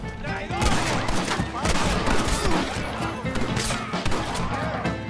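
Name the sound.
gunshots in video game Red Dead Redemption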